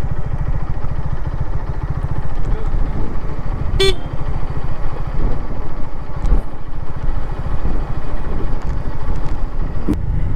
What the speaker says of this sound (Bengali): এটা আসলে ঘন জঙ্গলের ভিতর দিয়ে বাইক চালাচ্ছি